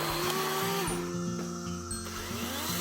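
A DeWalt battery chainsaw runs steadily with a high electric whine, its pitch dipping and rising as it bites into wood, loud and close with no voices.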